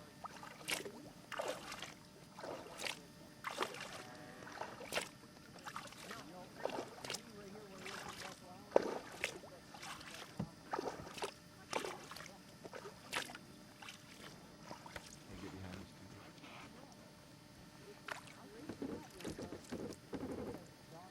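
Kayak paddling in Glacier Bay, Alaska, with repeated paddle strokes dipping into calm water at an irregular rhythm, soft splashes and drips close by, light wind noise and occasional quiet voices in the background.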